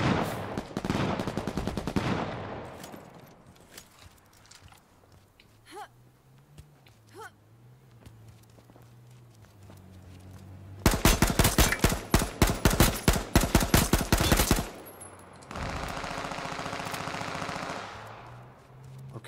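Bursts of automatic gunfire in the online survival shooter H1Z1 on PS4, a dense rapid volley in the middle after scattered earlier shots, loud against quieter game ambience.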